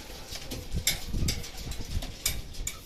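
Racing pigeons returning from training release in Cabanatuan, Nueva Ecija, landing at the loft: soft coos and scattered wingbeat flutters, close by, with a few sharp bursts of flapping over light background noise.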